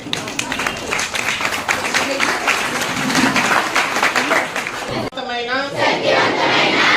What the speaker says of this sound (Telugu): క్లాప్స్ కొట్టలేము ఒకసారి.